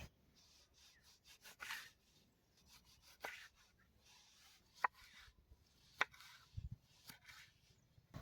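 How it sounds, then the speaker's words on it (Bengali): A kitchen knife slices through two fresh tomatoes while special handi chicken is prepared, giving quiet, scattered cuts and soft scraping with a few sharper taps against the board, all close and faint. "আমি এখন টমেটো দুটো কেটে নেবো"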